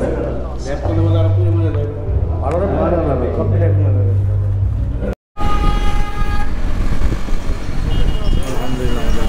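Vehicle horns honk in a jammed city road crowded with rickshaws, with long steady toots over the rumble of traffic, close and loud, while people talk over it.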